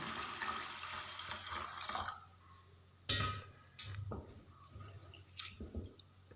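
Water pours and splashes into a container of rice and urad dal for idli batter for a couple of seconds, then a few scattered drips, knocks and small wet sounds follow quietly.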